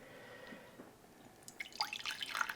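Homemade dandelion root coffee is poured into a cup, faint at first and then building into a close, bubbly trickle of liquid over the last second.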